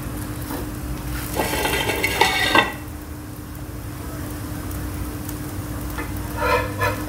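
Oats dosa sizzles in oil on a hot pan with a steady hiss, swelling into a louder crackling burst for a second or so before settling back to a quieter, even sizzle.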